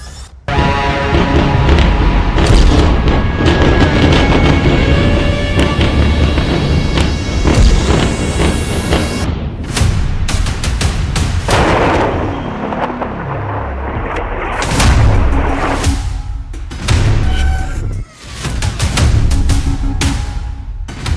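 Explosions in war footage from Gaza and Beirut: repeated loud booms and crashing blasts, with a rising whine before a dense cluster of impacts, then more sharp bursts and rumbling debris throughout.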